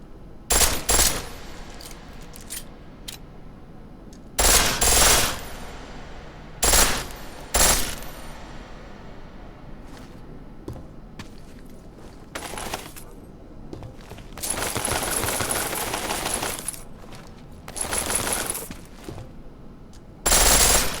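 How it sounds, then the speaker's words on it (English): Rapid full-auto pistol bursts in the video game Deus Ex: Mankind Divided, loud and close, coming in several separate volleys of varying length with short pauses and quieter stretches between them. "The pistol in full auto will take down targets fast, but it'll burn through your ammo."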